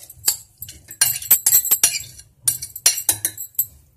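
Cooked bathua greens are loaded into a mixer jar, with a run of quick, bright clinks and taps against the jar, close and fairly loud, separated by short pauses.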